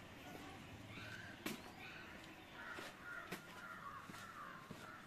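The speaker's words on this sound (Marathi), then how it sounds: "आपल्याला इथे विविध पक्ष्यांचे आवाज ऐकू येतात." Crows caw in short, sharp bursts at the old Vasai fort, several distant calls spaced across a quiet open-air background with other faint bird calls.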